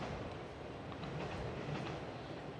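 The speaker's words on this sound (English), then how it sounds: "Got the train going by here at Georgetown College." A train passes near a college baseball field at Georgetown College, a steady, broad rumble with faint clattering holding at constant loudness throughout, with no talk over it.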